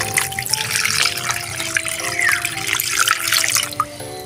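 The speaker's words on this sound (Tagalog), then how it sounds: "Lalagay rin po tayo ng tubig." Water pours steadily into a cooking pot of fish adobo with vinegar, a bright splashing stream with a faint hum underneath and no talking.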